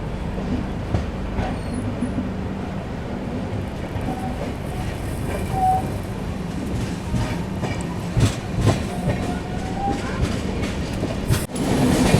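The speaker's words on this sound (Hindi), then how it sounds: "अपनी ट्रेन की क्रॉसिंग हो रही है कालका मेल, हावड़ा टू कालका नेताजी एक्सप्रेस" Trains cross near Subedarganj station, with the Kalka Mail passing, a continuous rumbling roll with clickety-clack wheel beats and metallic squeals heard steadily throughout.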